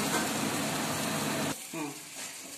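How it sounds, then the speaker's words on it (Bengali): Boiled potatoes fry with spices in a pan for an Alu Dum, a loud steady sizzle that cuts off abruptly partway through, followed by quieter faint sizzling and a few soft clinks. "শুধু মশলাগুলো যাতে আলুর মধ্যে ভালো করে ঢুকে যায় আমি একটু ভাজা ভাজা করে নিচ্ছি"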